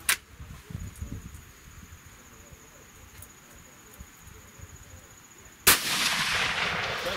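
Rifle shots at a long-range shooting range: one sharp crack at the very start, then a louder report near the end that leaves a broad, lingering roar, with quiet outdoor ambience between.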